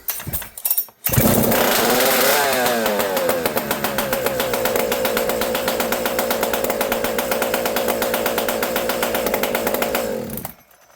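A chainsaw that had not been run for a while, with the choke pushed off and the decompression valve used, is pulled and starts, then its engine revs loud and near for about nine seconds before cutting off.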